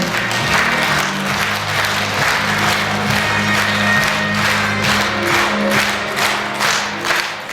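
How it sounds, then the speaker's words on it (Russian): Loud, sustained audience applause with some cheering at an awards presentation for a Khakas song project, heard over steady background music with low sustained tones. "Заслуженная награда, заслуженные аплодисменты."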